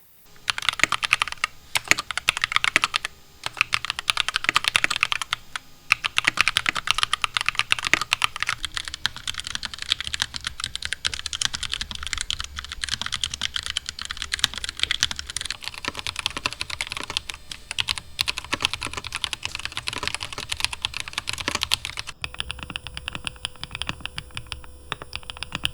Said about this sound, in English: I'll be putting it up against 3 of my personal keyboards